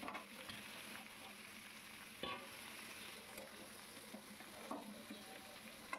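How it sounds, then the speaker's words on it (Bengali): Chunky-cut vegetables with pumpkin sizzle steadily in oil as a spoon stirs them, with a few sharper scraping clicks over the constant frying hiss and no one talking. "ভালো করে সবজিটাকে ওপর নিচ নাড়িয়ে চাড়িয়ে কষিয়ে নেবো"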